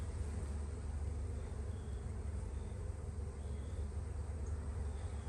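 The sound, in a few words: honey bees buzzing around an open hive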